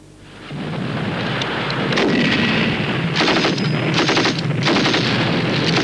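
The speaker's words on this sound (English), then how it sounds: "Here we're watching a UK battle group making the best use of its artillery and anti-tank fire." Artillery and anti-tank fire from a UK battle group in a field exercise, heard as a sustained rumbling barrage with repeated heavy booms and cracks, loud and continuous.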